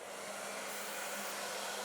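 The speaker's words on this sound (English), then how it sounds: "I'm going to use the Alpha Italia hairdryer and diffuser" An Alpha Italia hairdryer fitted with a diffuser blows in a steady, loud, even rush of air while a stylist works on a client's hair on stage.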